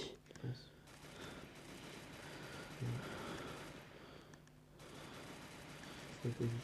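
Gunfire in the battle game PUBG breaks out in rapid bursts over a steady background hum, with a few sharp close shots standing out and voices faintly present.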